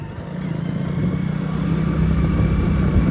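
A Hero Splendor motorcycle engine drones steadily while riding, a close, constant low hum that rises slightly in level over a few seconds, with no talk over it.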